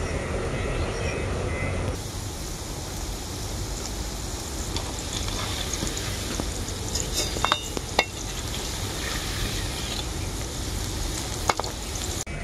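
Onion pakoras (piyaji) deep frying in hot oil, a dense, steady sizzle and bubbling throughout, with occasional light scrapes and clinks of a utensil against the pan, no talk.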